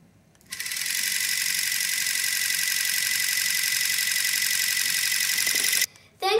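A small homemade DC electric motor running on 3 volts starts with a click and spins with a steady, buzzing high whir for about five seconds, then stops, close and alone.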